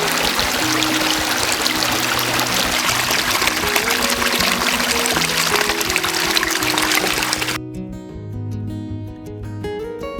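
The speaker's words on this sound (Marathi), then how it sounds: "मग पावसानंही हजेरी लावली आणि गडावरील मातीने पावसाच्या पाण्यात आपला रंग" Rain and running water rush across Kothligad fort near Peth village as a steady broadband wash, cut off after several seconds by music.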